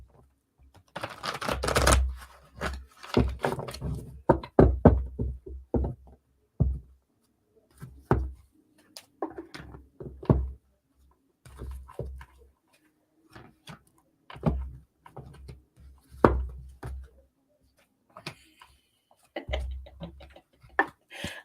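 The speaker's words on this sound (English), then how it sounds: "you guys can listen to me shuffle for a minute" Tarot cards being shuffled by hand slightly away from a microphone, a series of soft irregular riffles and flicks in short bursts separated by quiet gaps.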